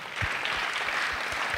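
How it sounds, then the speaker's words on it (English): Audience at an African readers' conference applauding panelists, a dense, sustained burst of many hands clapping with low thumping beats underneath, loud and continuous throughout. "clap the biggest of your hand claps as we have our panelists off"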